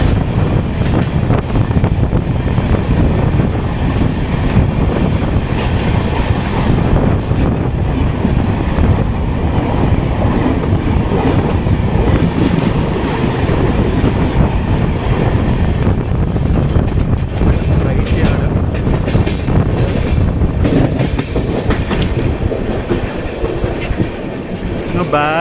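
The Avadh Express passes on the opposite line beside the Surat Intercity near Mumbai, a long steady roar of wheels and rattling carriages with clickety-clack and wind buffeting for about 25 seconds.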